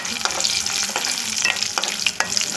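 Red chilies and cumin frying in hot oil for curry leaf pickle, a loud, close, continuous sizzle with occasional scraping stirs through the pan.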